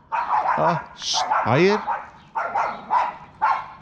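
A small dog gives several sharp, high yips and barks at close range, spaced out, mixed with a person speaking briefly.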